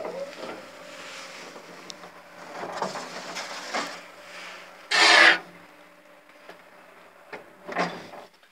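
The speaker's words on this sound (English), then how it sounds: "It's a really old Pickerings lift." An old 1970s Pickerings Econolift at Westway Cinema in Frome, a lift with no inner doors, runs downward with a low steady hum and scattered clunks and knocks. One loud mechanical burst stands out midway.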